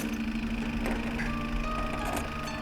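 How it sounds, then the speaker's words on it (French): A Jeep engine idles steadily at close range, a continuous low mechanical hum with faint ticking and no voices. "Le moteur marche."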